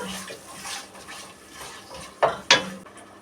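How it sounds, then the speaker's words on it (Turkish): Sorrel greens and onion being sautéed in a pan, a soft low sizzle with gentle stirring scrapes and two sharper utensil clinks near the end, quiet and close. "Kavurma işlemine başladık."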